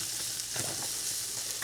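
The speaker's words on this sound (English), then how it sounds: "So we're trying to brown our onions." Chopped onions sizzle and fry in hot oil in a pan for a collard greens thoran, a steady close crackle with faint stirring.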